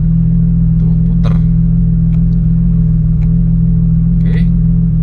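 Porsche 911 GT3 (992) with its naturally aspirated engine idling in track mode, a steady deep low rumble running throughout, with a few faint clicks over it.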